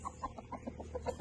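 A white rooster being caught squawks and clucks in a quick, repeated series of sharp calls over a steady outdoor background noise.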